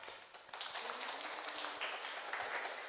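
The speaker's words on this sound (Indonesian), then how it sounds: "Beri tepuk tangan untuk Mas Slamet." Students in a classroom give a round of applause for a classmate, a fairly faint burst of scattered clapping that starts abruptly and continues steadily without speech.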